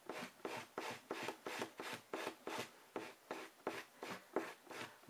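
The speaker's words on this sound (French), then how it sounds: "Et je vais limer aussi la partie qui est sur mon ongle. Mais je ne lime pas mon ongle. Je lime que la capsule" A nail file rasps back and forth across a gel nail tip in a steady rhythm of about a dozen quick, soft scraping strokes, close and quiet.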